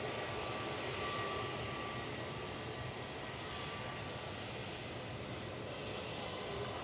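A small Pilatus PC-12 turboprop plane at Manchester Airport roars steadily at a distance, a broad, even engine drone with no change in level throughout.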